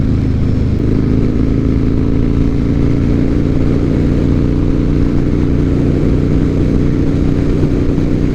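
Harley-Davidson motorcycle ridden at a steady pace, its engine droning loud and continuous with a deep rumble and slight clatter, no voices over it.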